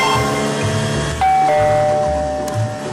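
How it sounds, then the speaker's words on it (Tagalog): A loud doorbell chime rings at the front of a house, a single sustained tone cutting in over a loud, boomy background of music and rumble. "Biglang, ting-tong! Malakas na tumunog ang doorbell sa harap ng bahay."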